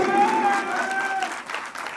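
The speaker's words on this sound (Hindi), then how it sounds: "एक बार जोरदार ताली अपने आप के लिए।" An audience seated in a hall claps loudly for themselves at a SafeShop business gathering, a short burst of crowd applause with a voice carrying over it.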